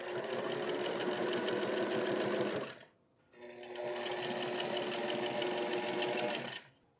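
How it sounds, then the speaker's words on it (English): A sewing machine top stitches placket pieces for a quilted workwear vest, running in two steady buzzing bursts of about three seconds each, separated by a short pause. "I'm top stitching all three of the placket pieces."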